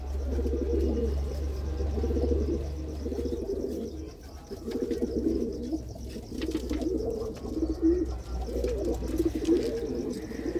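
Pigeons coo steadily in repeated rolling phrases, fairly close, with a low constant hum underneath and no talk; teddy-type pigeon chicks are kept in the loft.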